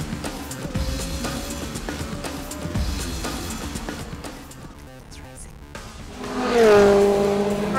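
Race cars in a Ferrari GT Cup race at speed on track, engines roaring and shifting down through gears, with a rising tire squeal or engine whine near the end; talk runs over much of the sound.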